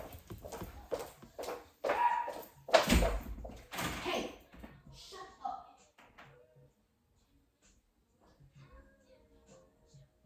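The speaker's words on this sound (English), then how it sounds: "Every time I start recording, she starts barking." A dog barks indoors in a series of sharp, loud barks and yips, clustered in the first few seconds and fading to quieter sounds, with someone talking over and between them.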